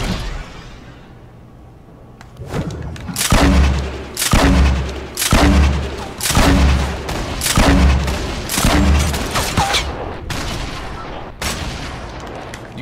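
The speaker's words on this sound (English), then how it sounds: "Ah, they're shooting at me." Video game gunfire, probably Fortnite, with loud repeated shots in rapid bursts of roughly regular rhythm, each heavy and booming, continuing for several seconds.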